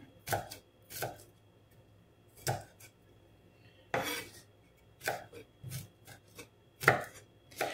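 A knife chops food on a board in about a dozen crisp, separate strikes, some in quick pairs, close and fairly loud against a quiet kitchen with no talking.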